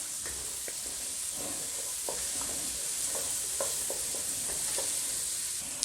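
Carrots, garlic and onions fry in a pot, giving a steady sizzling hiss with soft scraping taps as they are stirred, no voices.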